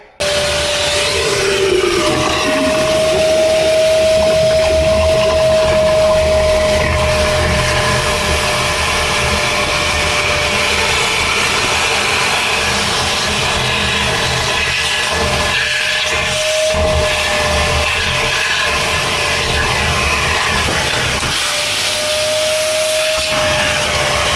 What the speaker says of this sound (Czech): Tak já budu muset stejně pro vysavač.